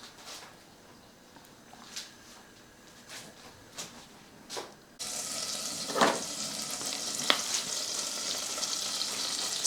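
Onion frying in a pan on a stove in a Portuguese homestead kitchen, a soft crackling sizzle with scattered pops that suddenly grows into a louder, denser hiss midway.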